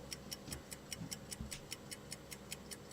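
Steady, faint ticking at a fast even rhythm, like a clock, continuing unbroken with no talking.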